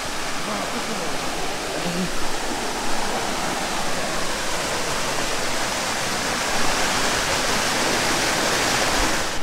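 Bausa waterfall on the Boalia trail roars with a steady, dense rush of falling water, loud and continuous throughout, with no clear talk above it.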